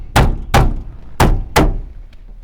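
Four loud, close thunks as a door panel on a 1979 Dodge D-150 pickup is banged, struck in two quick pairs with short decaying resonance and no talk.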